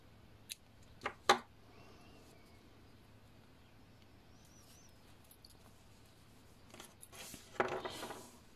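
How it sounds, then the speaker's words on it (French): Scissors snip through crochet yarn in a few quick, faint clicks near the start, then a short rustling handling sound toward the end in an otherwise quiet room, with no talking. "Et je peux couper le fil."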